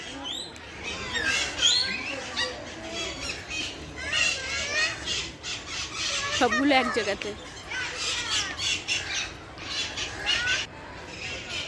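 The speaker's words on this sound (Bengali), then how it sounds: "এই জায়গায় আছে টিয়া পাখি, টিয়া পাখিগুলো ডাকছে।" Parakeets at Alipore Zoo in Kolkata let out repeated shrill squawks in short bursts. Someone talks over and between the calls.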